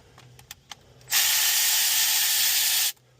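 A pneumatic tool working a bolt on a 2007 Tacoma engine during fuel injector replacement, a couple of faint clicks and then a loud, continuous hissing whir close up for about two seconds before stopping.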